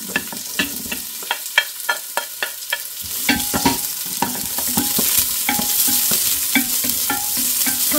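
Onion frying in hot oil in a pan for chicken curry, with rapid rhythmic spatula scrapes and taps over a sizzle that swells louder and more continuous partway through, close by.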